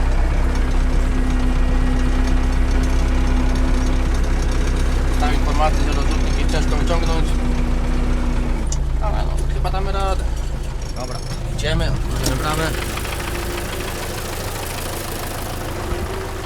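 An MTZ 82 tractor engine idles steadily with a low rumbling drone, joined by brief talk and clanking partway through before the engine noise drops off.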